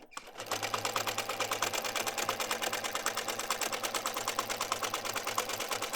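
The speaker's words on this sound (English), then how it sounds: "I will just quickly sew them together" A sewing machine stitches quilting fabric pieces together, a fast steady mechanical chatter of needle strokes running continuously and close for the whole stretch, with no talk over it.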